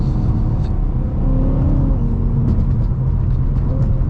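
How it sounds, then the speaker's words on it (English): A modified 2010 BMW E92 M3 engine rumbles deep and steady from inside the car, with short rev blips rising and falling on downshifts. "listen to those downshifts"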